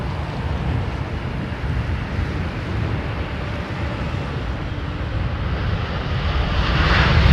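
Jet engines of a Boeing 777-200 at Heathrow roar in a broad, steady rush mixed with wind noise, swelling louder toward the end as the aircraft draws nearer.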